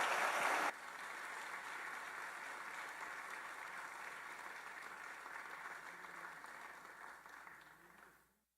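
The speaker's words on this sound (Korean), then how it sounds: "나오실 때 우리 환영의 박수 하겠습니다." Congregation applauding in a church to welcome a pastor to the pulpit, a sustained wash of many hands clapping at moderate distance, starting with a brief louder burst and then fading out at the end.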